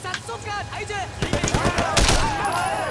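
Gunfire in the video game Sleeping Dogs, several sharp shots aimed at a barrel, cracking loudly over game sound with someone talking over the burst in the second half.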